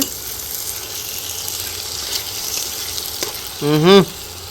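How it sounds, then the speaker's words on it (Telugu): Mutton pieces are stirred with whole spices and masala in a pan for mango mutton curry, giving a steady, close frying sizzle with scraping. A brief voiced sound rises near the end. "ఆ మసాలా మసాలా ముక్కలకు బాగా పట్టేలా కలపండి ఒకసారి"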